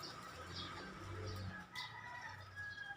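Pigeons coo softly nearby, low repeated throaty murmurs over a faint background hum, with a few higher chirps mixed in.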